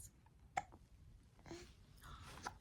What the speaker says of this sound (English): With your hiccups.